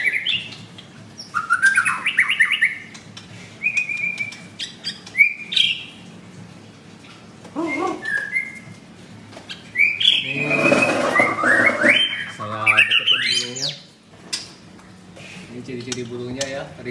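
White-rumped shama (murai batu) singing in a bird shop, with loud varied whistles, rapid trills and harsh chattering phrases in bursts and pauses, close by, with faint background noise.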